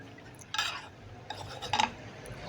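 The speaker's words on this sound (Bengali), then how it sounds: "উল্টে পাল্টে ভালো করে নেড়ে নিচ্ছি" Fish and onion leaves being stirred in a pan, a few soft scraping and clinking bursts of a utensil against the pan over a quiet background hiss.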